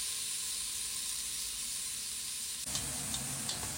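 Garlic, chopped onion and lemongrass sizzle steadily in oil in a saucepan over medium-high heat, a continuous close hiss, with a few light spoon scrapes as stirring begins near the end.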